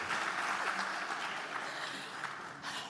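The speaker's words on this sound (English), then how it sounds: "So another round of applause." Applause at the closing session of an Africa conference at Oxford, a continuous, fairly even round of clapping from the audience that tapers slightly as it goes.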